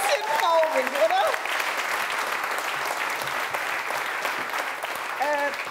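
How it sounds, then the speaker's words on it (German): A crowd at the Weserstrand show gives a sustained round of applause, a steady wash of clapping with a voice speaking over it at the start and again near the end. "Das ist nochmal ein extra Applaus wert."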